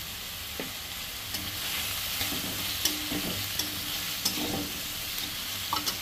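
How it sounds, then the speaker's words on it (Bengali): Potatoes frying in a pan with turmeric, a steady close sizzle broken by occasional sharp clinks and scrapes of a utensil stirring them. "আলুগুলো যতক্ষণ না লাল লাল হচ্ছে ততক্ষণ এটাকে ভাজতেই থাকবো আমি"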